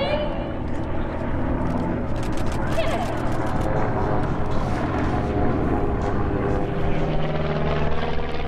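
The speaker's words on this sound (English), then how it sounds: "They're flying 6 Vans RV series kit planes" Six Vans RV series kit planes fly a formation airshow display at EAA AirVenture Oshkosh 2019, their propeller engines droning steadily and loudly throughout, with a crowd audible beneath.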